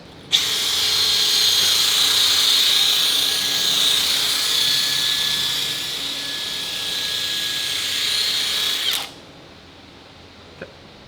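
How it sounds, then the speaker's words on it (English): Power tool stripping red oxide paint off steel before welding, a loud continuous high whine grinding for about nine seconds, then cutting off abruptly, followed by a single small tap. "I'm just going to get rid of a little bit of this paint because welding red oxide is not very fun"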